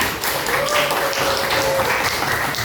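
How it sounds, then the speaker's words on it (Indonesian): Classroom applause for a student during an Indonesian language lesson, a steady wash of clapping from a group of pupils lasting the whole stretch, fairly close and even in level, with a faint tonal whistle or hum partway through. "Ya, tepuk tangan untuk Mas Krisna"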